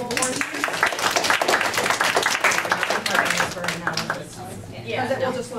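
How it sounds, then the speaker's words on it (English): An audience claps through a round of applause for a cosplay performer at a fan event, the dense clapping close and steady with voices mixed in, thinning slightly toward the end. "Please give a round of applause to our wonderful orange."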